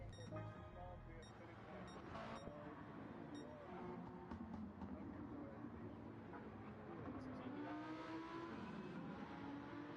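A racing car's rally-class engine in Gran Turismo 7 drones and revs continuously, with shifting pitch throughout, mixed with track and ambient game noise.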